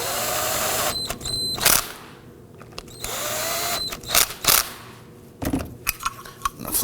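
A power tool tightens a bolt on the power steering pump bracket of a 2005-2009 Subaru Legacy 2.5L H4, short whirring bursts with metallic clicks and clanks of tools in between, close by.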